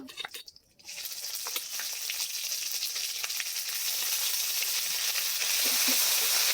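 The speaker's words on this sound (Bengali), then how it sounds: "মশলাটা ভালো করে কষিয়ে নেব।" After a brief clatter, a bright hissing sizzle rises and holds steady, spices frying in hot oil close by, growing slightly louder toward the end.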